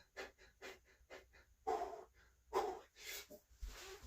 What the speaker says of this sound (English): you can hear there how rapid my breathing is